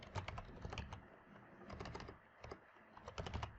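Quiet, close typing on a computer keyboard, with irregular bursts of rapid key clicks separated by short pauses.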